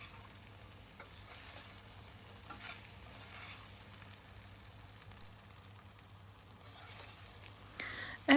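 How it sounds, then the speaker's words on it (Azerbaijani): Chickpeas being stirred in a pot while pea soup cooks, a quiet low sizzle broken by several soft scraping stir strokes, with a small clatter at the end and no voices. "Və üzərinə noxudu əlavə edib, yenə də qarışdırıram."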